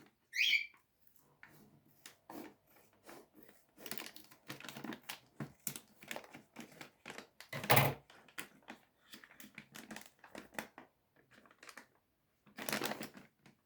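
A run of crisp snipping and crackling bursts, with a few louder sharp cuts and rustles of plastic at close range as scissors cut open a bag of dry dog food, no voices.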